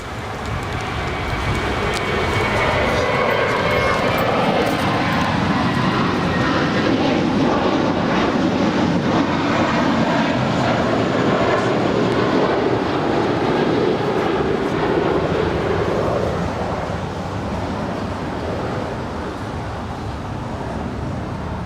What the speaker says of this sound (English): That's off Cathay Pacific Cargo. It's a 747-8 lighting up.